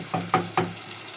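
Vegetables and garlic stir-fried in a pan for a desi aloo gobhi sabji, three short scraping stirs over a low steady sizzle, close and fairly quiet.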